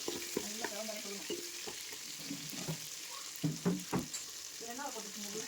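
Food sautés in a pan with a steady sizzling hiss and occasional stirring scrapes, while a faint voice murmurs in the background.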